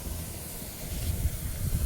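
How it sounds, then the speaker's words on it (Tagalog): A homemade liquid detergent mixture made with soda flakes boils and hisses, a steady close bubbling hiss with low gurgling underneath and no voices over it. "Grabe, kumukulo."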